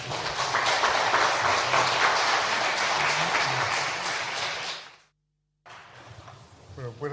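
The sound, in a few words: audience applause welcoming speakers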